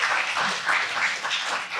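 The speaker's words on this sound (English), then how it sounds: "More applause, please." A conference audience gives a panel a steady wash of applause, with many hands clapping together at an even, fairly loud level throughout.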